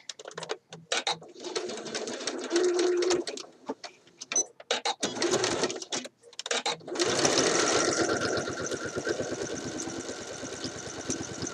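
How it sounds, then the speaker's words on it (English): A home sewing machine stitches a shirt dress seam at a narrow one-eighth-inch allowance, first in short stop-start bursts of rapid needle chatter, then a longer steady run of fast stitching, loud and close. "I'm stitching 1/8 of an inch."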